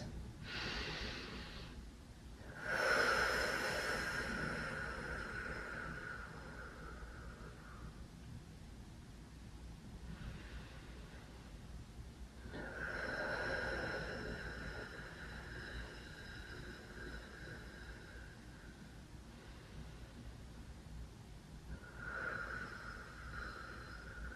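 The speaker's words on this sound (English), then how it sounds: "Take in some nice deep breaths." Slow, deep breaths during a gentle yoga session for low back pain, a few long airy inhales and exhales spaced several seconds apart, soft and close with quiet pauses between them.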